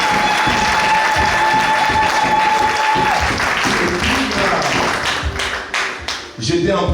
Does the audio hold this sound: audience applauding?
yes